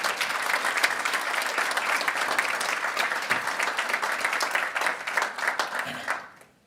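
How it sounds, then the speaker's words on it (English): Audience at a university faculty hall of fame awards ceremony applauds steadily, a dense even round of clapping that fades out at the end. "so I'd like to give her a round of applause"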